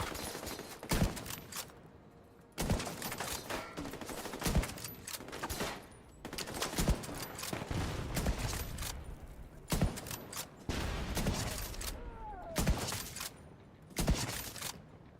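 Video game gunfire sounds in repeated close, loud volleys of rapid shots, with brief lulls between bursts and a few single cracks.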